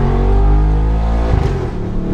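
A Mercedes G800 Widestar Brabus SUV engine runs with a deep, steady, loud rumble close by, building slightly and then wavering near the end; no voices.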